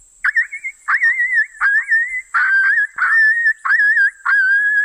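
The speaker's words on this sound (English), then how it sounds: "Pup distress, which is what I was doing, you know, my version of it. This is Jason's on the e-call" Coyote pup distress calls from an electronic game caller: a series of about seven loud, whining yelps with wavering pitch, each half a second or so long, repeating steadily with short gaps and no talking.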